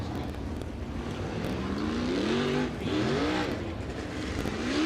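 A dirt-track race car rolls into turn one at La Salle Speedway, its engine note rising and bending in pitch as it passes, a steady loud roar over crowd and track ambience.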